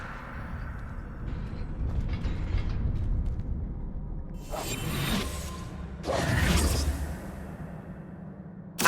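Levioso levitation spell in the Hogwarts Legacy video game: a rumbling magical whoosh with mechanical undertones, followed by two sharper bright swishing bursts near the end, fairly close and without voices.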